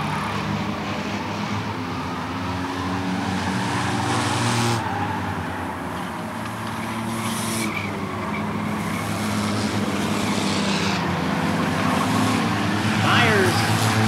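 Stock cars race at Rockford Speedway in a Sixers heat, a continuous roar of engines echoing around the oval from a distance while an announcer calls the action over the top.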